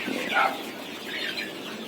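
Chickens on a small poultry farm give a few short clucks, moderately close but not loud, over a quiet background.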